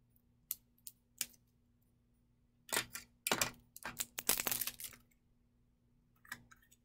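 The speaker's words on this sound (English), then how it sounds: "Good thing I have tiny scissors." Tiny scissors snipping open cosmetic packaging, a few sharp isolated clicks followed by a denser burst of crisp cutting snaps, close and fairly quiet with no talking.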